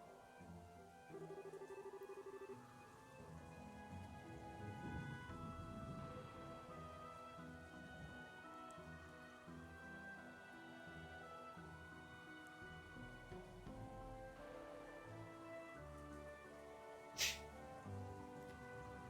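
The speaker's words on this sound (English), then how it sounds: "You didn't have to come out here in the rain." Steady rain falling in the video game Trails in the Sky the 3rd, a soft continuous patter under a melodic music score, with a brief sharp splash near the end.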